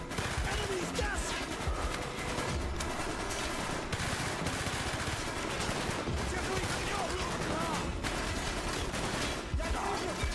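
Gunfire in the video game Call of Duty Black Ops, played on Wii: dense, nonstop automatic fire with rapid repeated shots and occasional heavier bursts, fairly quiet overall and dominating throughout.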